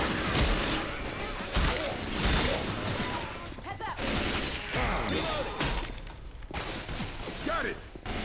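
Gunfire from the video game Left 4 Dead 2, with repeated shots and bursts across the clip, mixed with game noise and a player talking over it.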